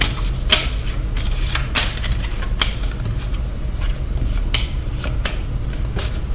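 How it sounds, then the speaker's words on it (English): Tarot cards flipped over and shuffled, heard as a run of crisp, close snapping flicks and slaps at an irregular rhythm over a low steady background hum, with no talking. "We just kind of flip them over, shuffle them a little bit."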